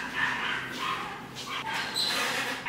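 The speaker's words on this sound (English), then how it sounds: "The dogs is going stupid outside." Dogs squabble outside, with yips, whimpers and short barks scattered through a busy, noisy background, heard from some distance rather than close by.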